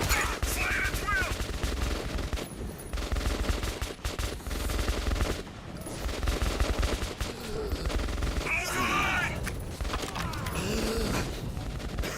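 Heavy automatic gunfire and rapid shots from several weapons in the Metro 2033 Redux video game, loud and nearly continuous, with mechanical clanks and brief lulls in between. A voice is faintly present.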